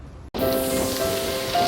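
Steady rain falls during a tall-bike training ride, a dense continuous hiss with a constant low tonal hum underneath, loud and close after a brief silent gap at the start.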